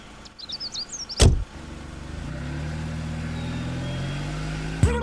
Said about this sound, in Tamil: அங்க ஒரு கார் வருது, லிஃப்ட் கேட்டு பார்ப்போம்.